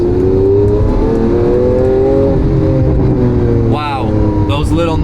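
A Lamborghini Aventador S engine revs loudly and smoothly up close, with subtle exhaust pops and bangs as it lets off, and a voice talks over it.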